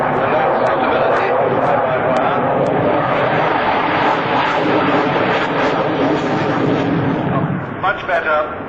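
Fighter jet flying a cobra manoeuvre at the 1992 Farnborough airshow, a loud continuous broadband engine roar sustained throughout, with a commentator talking over it.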